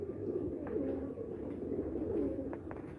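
Breeder pigeons cooing steadily in a low, continuous murmur, several birds overlapping close by with a few brief higher chirps, no talk.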